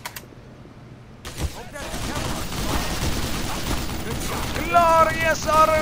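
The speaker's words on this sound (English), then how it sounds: "Glorious auto turrets!" Automated gun turrets in Black Mesa fire rapid, sustained bursts that build into a loud continuous rattle, joined near the end by a repeating electronic tone.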